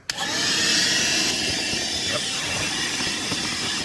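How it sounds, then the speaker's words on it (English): A Bauer shop vacuum from Harbor Freight runs steadily and loudly with a broad airy hiss and motor whine, starting abruptly and holding constant for about four seconds, used while replacing a Ferrari Dino 246 GTS battery. "For vacuuming, I will use my handy dandy Bauer here from Harbor Freight."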